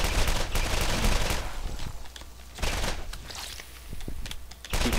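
Gunfire in the video game Borderlands: sharp shot bursts crackle in several clusters across the stretch, fairly loud, with brief quieter gaps between volleys and no talk over them.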